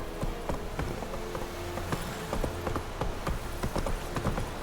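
Geralt's horse Roach trots in The Witcher 3: Wild Hunt on Xbox One X, a steady run of hoof clip-clops beneath a dense, constant game soundscape of ambient music and noise.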